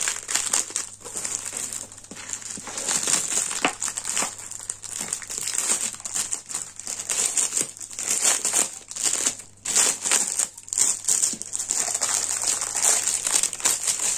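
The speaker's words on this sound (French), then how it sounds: "ce papier là, c'est désagréable" Paper packaging of a diamond painting kit crinkles and crumples continuously at close range, with steady rustling bursts and brief pauses throughout, and no talking over it.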